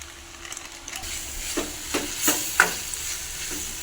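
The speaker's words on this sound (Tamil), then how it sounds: "வெங்காயம் மிளகாய் மற்றது எல்லாம் போட்டு வதக்கிடுச்சு" Onions and chillies sauté in a pan while being stirred, a soft sizzle with several scraping stirs spaced about half a second apart, close and fairly quiet.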